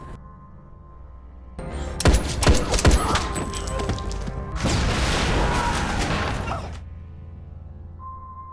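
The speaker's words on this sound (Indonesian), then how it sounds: "Di sana mereka kembali baku tembak menghadapi para teroris." Bursts of gunfire crack through a shootout with terrorists in a realistic video game, loud sharp reports clustering in the middle before a dense rattling stretch that fades back to a low hum.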